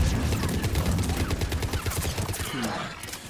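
Rapid sustained gunfire in the Mass Effect 3 video game, dense bursts of shots rattling one after another, loud and close, with a voice briefly speaking underneath.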